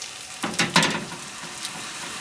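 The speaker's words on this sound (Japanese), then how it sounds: "今バターがキャラメルと馴染んでちょうどよくキャラメリゼされて、バターが沸騰しているところです" Butter melted into caramel bubbling and sizzling in a pan with banana pieces, a steady close crackle with a few louder bursts of frying near the start, no voices.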